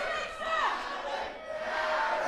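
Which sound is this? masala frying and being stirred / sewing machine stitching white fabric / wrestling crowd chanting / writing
wrestling crowd chanting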